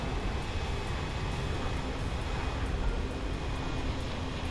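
A War Thunder aircraft bleeding off speed on its runway approach, a steady broadband engine and wind roar that stays loud and constant throughout, with no talking.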